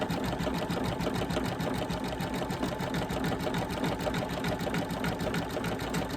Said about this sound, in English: now here it's going to be going through multiple pieces over stitching